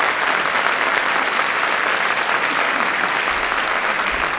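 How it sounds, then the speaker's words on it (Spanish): Loud, dense audience applause after a thanatology conference lecture, a continuous strong roar of many hands clapping at close range without a break. "Un aplauso muy fuerte."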